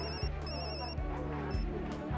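A telephone ringing in a crime detective drama, repeated electronic bursts of trilling rings in a steady pattern, fairly loud over a low background bed with a faint murmur.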